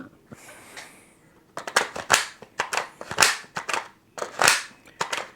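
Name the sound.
Bulgarian magazine locking into an AK rifle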